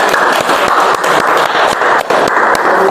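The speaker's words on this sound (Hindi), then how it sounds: "जोरदार तालियां सर को" Audience applause fills a birthday celebration stage event, a dense steady wash of many hands clapping throughout, loud and continuous with brief dips.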